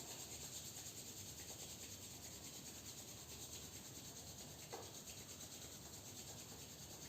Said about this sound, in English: Rub palms again.